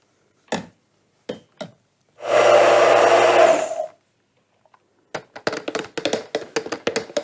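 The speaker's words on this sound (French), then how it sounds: "Ensuite, je vais mixer au thermoplongeant." An immersion blender whirs loudly for about two seconds while blending coconut oil and soy drink, with scattered knocks and taps of the container before it and a rapid clatter of handling afterward.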